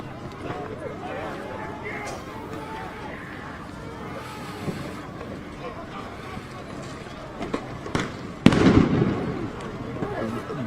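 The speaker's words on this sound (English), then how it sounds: "All these tear gas are being shot because of people that have sort of breached the side a little bit." Tear gas canisters fired at a crowded street protest, scattered pops and bangs over a steady crowd murmur, with a louder burst near the end and voices throughout.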